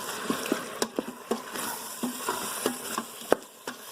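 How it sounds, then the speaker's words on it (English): Canned diced tomatoes with their juice being stirred into a chickpea stew in an Instant Pot: soft wet scraping with scattered quick clicks of the utensil against the pot, fairly quiet and steady, with no talking. "take a 14-ounce can of diced tomatoes, juice and all, and stir that in"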